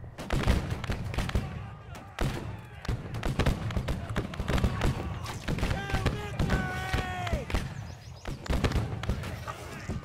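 Cannon fire booms repeatedly in a large battle in the Civil War video game Battle Cry of Freedom, with irregular heavy blasts and thuds scattered across the field amid battle din, with some talk underneath.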